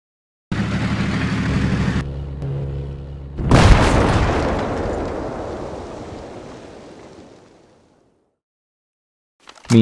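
A heavy artillery blast booms in a Minecraft battle, a loud deep explosion whose rumble decays slowly over several seconds after a steady low droning hum, with a brief sharp sound at the very end.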